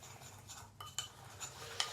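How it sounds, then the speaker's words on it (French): Spoon stirring coffee and oil together in a bowl for a homemade skincare recipe, a close, irregular scraping and clinking against the bowl with a few sharper taps. "Du coup là j'ai mis le café et l'huile. Du coup je vais mélanger"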